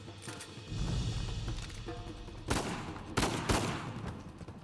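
AK rifle gunfire in the video game Uncharted 4: rapid bursts of automatic shots crack through a busy game soundscape, with several sharp loud volleys in the latter half.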